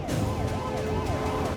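An ambulance siren wails steadily in a repeating rising-and-falling pattern, loud and close over low rumbling traffic, with no voices.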